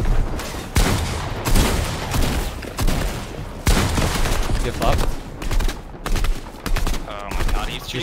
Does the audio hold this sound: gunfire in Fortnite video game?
yes